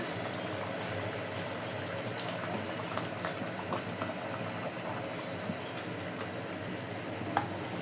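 Rui-type river fish, about one kilogram, frying in oil in a pan gives a steady, dense sizzle and bubbling throughout, close up, with faint scraping from occasional stirring and no talk.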